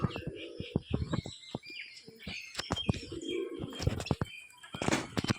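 Pigeons perched high in their loft give several soft coos and chirps, with scattered wing flutters and rustling clicks throughout, fairly close and quiet.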